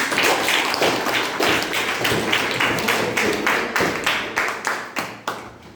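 Classmates in a class 8 biology lesson clap for a friend, a sharp, fairly loud burst of individual claps that starts dense and thins into slower, spaced claps that fade toward the end.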